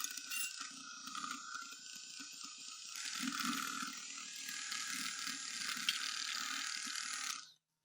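A hand beater works through carrot cake batter thinned with milk, giving a continuous rattling, ratcheting mechanical whir that stays loud and steady before cutting off abruptly near the end, with no voices.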